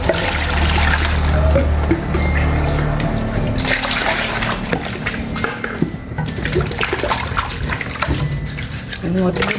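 Peeled cassava is washed by hand in water, with continuous splashing and sloshing close by while a person talks over it.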